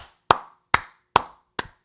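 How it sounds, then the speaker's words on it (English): Four sharp hand claps land right into a microphone at an even pace, each a loud, close smack with a short decay, alone with no talk. "I didn't mean to clap into the mic"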